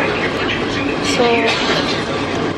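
A passenger train travelling from Malaysia to Thailand rumbles and rattles steadily from inside the carriage, a continuous loud clatter with a faint wheel squeal, while a voice speaks briefly over it.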